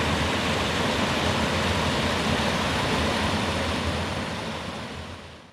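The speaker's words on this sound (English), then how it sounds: "we've got waterfall number 2 coming out of the spillway here" Water from a second waterfall pours out of a reservoir spillway in East Texas, a steady, loud, broadband roar that fades out at the very end.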